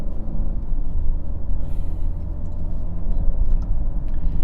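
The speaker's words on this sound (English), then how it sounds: "So now we go up through the gears again." A 2023 Alfa Romeo Giulia Estrema AWD accelerating up through the gears, its engine drone steady and loud from inside the cabin with a continuous low rumble and no talk.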